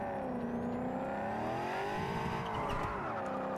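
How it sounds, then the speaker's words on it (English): A car in Cyberpunk 2077 drones along with a continuous, rather rough engine tone whose pitch rises and falls as it drives, heard fairly quietly without any talking. "God, that car sounds terrible."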